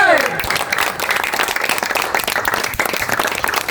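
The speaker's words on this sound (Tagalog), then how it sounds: "isa pong palakpak para kay Mr." A round of applause for a guest at a home gathering, brisk dense clapping throughout with voices mixed in and a brief whistle-like tone at the start.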